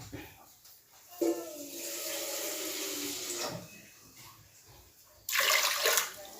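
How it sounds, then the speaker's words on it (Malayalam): Further water poured into jackfruit seed curry with drumstick leaves cooking in a pot, a long splashing pour, a pause with faint voice, then a second short burst of pouring, close and moderately loud. "കുറച്ചുകൂടി ഒഴിക്കണം"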